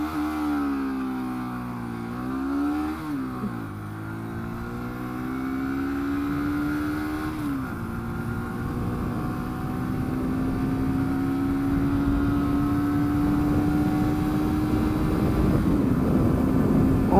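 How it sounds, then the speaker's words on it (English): A UM Renegade Commando motorcycle accelerates hard on a dual carriageway, its engine note climbing through gear changes and then droning steadily under heavy wind roar, close and continuous throughout. "I'm going to give it a blast at the dual carriageway"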